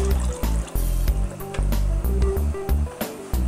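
Water poured into a cooking pot while making kari pakora, heard as repeated splashing pulses, loud and close, with short pauses between pours and no speech over it.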